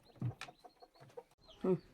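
A village hen clucks over newly hatched chicks, giving a few soft, close clucks with quiet gaps between them, with no talking.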